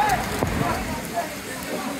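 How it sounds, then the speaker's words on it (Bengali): Heavy rain pours over an outdoor cattle market in Hozrotpur, Bangladesh, a steady broadband wash of falling water that carries through the whole moment, with people talking over it. "প্রচুর বৃষ্টি হচ্ছে এখন হযরতপুর হাটে"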